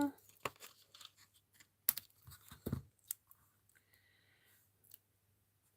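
Scissors snip through cardstock for card making, with scattered sharp cuts, rustling and handling clicks against a quiet background, plus faint background murmur.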